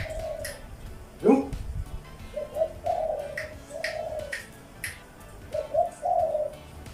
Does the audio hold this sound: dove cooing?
yes